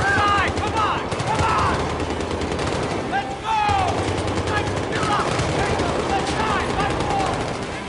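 Squad gunfire in a Battlefield 3 parking lot ambush, loud dense bursts of automatic rifle fire overlapping continuously with sharp cracks and shouted voices mixed in.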